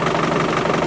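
An Isuzu 4BD1T turbo diesel engine runs just after a cold start at minus four degrees, a loud, dense, steady clatter filling the short moment with no voices.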